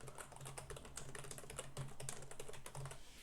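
Rapid, close clicking of keys on a computer keyboard as a Tinkercad design is renamed, a steady run of light taps with no talk.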